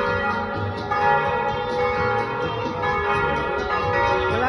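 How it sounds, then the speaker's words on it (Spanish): Church bells of the San Pedro Nonualco parish in El Salvador ring continuously, a dense layered clang of overlapping metallic tones with a steady rhythmic pulse and no talking. "se oye en todos lados la campana"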